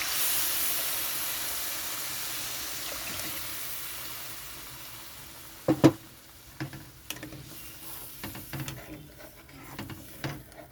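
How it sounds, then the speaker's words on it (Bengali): Spice-wash water poured into fried masala in the pan while cooking a Bengali bhola fish kalia, a broad steady hiss that thins over several seconds, then sharp crackles and spits pop out near the end. "তো এখানে আমি মশলা ধোয়ার জলটা দিয়ে দিচ্ছি।"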